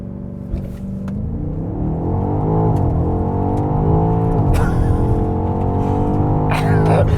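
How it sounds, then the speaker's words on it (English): A 2020 BMW X5M Competition with its twin-turbo V8 launches hard under launch control, a loud, close engine roar climbing steadily through the gears with brief shift breaks, while people talk over it. "'20 BMW X5M Competition with launch control."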